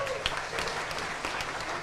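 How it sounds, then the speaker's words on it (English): Applause from an audience at an election-night event, a soft, distant wash of many hands clapping, brief and steady with no talk over it. "Round of applause for sure."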